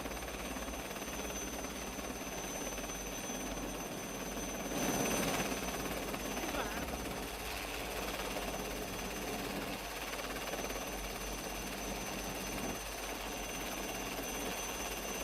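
An Indian Coast Guard Chetak helicopter flies a sea rescue near Daman over the Arabian Sea, its engine and rotor giving a steady, continuous drone at moderate distance with no voices.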